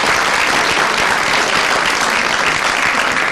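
A studio audience claps steadily and loudly on a 1993 Greek morning television talk show, with dense, sustained applause filling the whole stretch and no voices on top.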